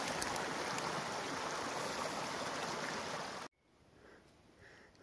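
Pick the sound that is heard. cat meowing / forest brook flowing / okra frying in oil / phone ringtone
forest brook flowing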